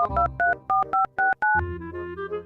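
A phone number is dialed on a telephone keypad: about nine short, evenly spaced beeping tones, close and clear, followed by a low steady ringing tone.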